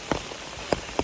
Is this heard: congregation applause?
no